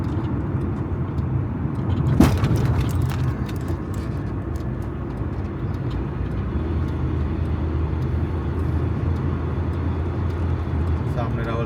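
Road traffic flows at Rawal Chowk, Islamabad, a continuous mid-level drone of passing vehicle engines with one louder swell as a vehicle goes by near the start, while someone talks over it.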